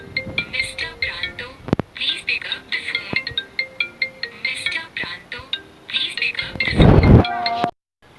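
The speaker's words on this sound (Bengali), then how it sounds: "ডাউনলোড করার সময় আমি কিন্তু এটাকে বাজিয়েও দেখতে পারবো রিংটোনটা কী রিংটোন এখানে" A phone plays a custom voice ringtone built around a person's name: a loud, repeating chime and spoken phrase loop, clear and close, ending in a brief swell before cutting off.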